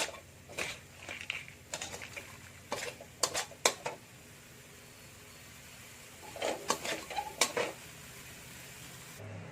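Crab tossed with curry powder in a pan: sharp clinks and scrapes of a utensil against metal in bursts, with a quiet pause between, close and moderately loud, no voices.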